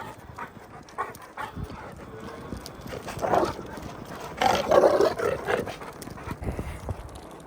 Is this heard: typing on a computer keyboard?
no